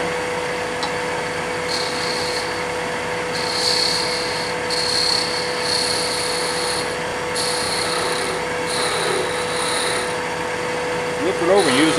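A skew chisel cuts wood on a lathe while a spinning piece is rounded off, giving a steady close rasping, rubbing scrape with recurring pulses of bright hiss over a constant motor hum.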